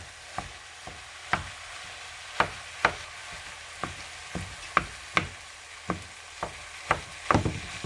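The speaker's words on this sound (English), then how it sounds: "going to cook this until it becomes dark brown in color" Fatty pork and other bolognese ingredients fry in a pan with a soft, low sizzle, broken by a string of sharp, irregular taps and clacks from a utensil.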